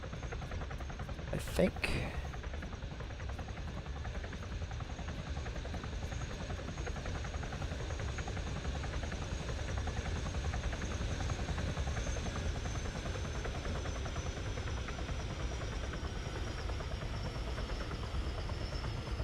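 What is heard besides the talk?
helicopter landing on a destroyer in Open Warlords video game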